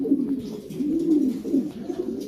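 A silver-coloured pigeon coos close by, with soft, low, rolling calls repeating steadily with no voices over them.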